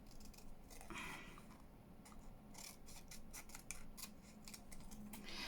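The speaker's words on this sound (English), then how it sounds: "Just cut that out." Scissors snip steadily through paper while cutting out junk journal embellishments, a close series of crisp, quick cuts with brief pauses between strokes.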